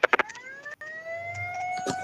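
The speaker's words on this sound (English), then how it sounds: "I hear the siren." Siren wailing with slowly rising steady tones after a few short sharp bursts, moderately loud and continuous with no voices.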